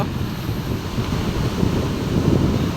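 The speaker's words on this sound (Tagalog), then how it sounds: "tinan nyo naman yung alon" Steady rumbling wind buffets the microphone over a wash of surf, a continuous low roar with gentle swells in loudness and no voices.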